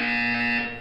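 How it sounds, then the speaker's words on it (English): A steady electronic alarm-like buzzer from the video game Portal 2 sounds loud and unbroken for under a second, then begins to fade. "When you hear the buzzer, look down at the floor."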